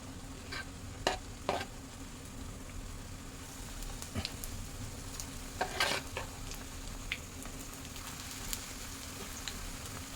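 Onion bhaji batter dropped by spoon into hot oil sets off a steady frying sizzle, with scattered sharp splashes and clinks as each spoonful goes in, over a low background rumble.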